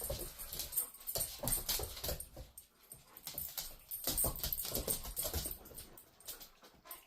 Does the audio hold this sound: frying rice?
no